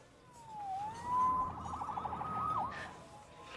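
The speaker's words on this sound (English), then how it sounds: "Saved by the siren." A police siren from the Spider-Man Remastered video game wails with a steady rising and falling tone, moderately loud and alone, with no talk over it.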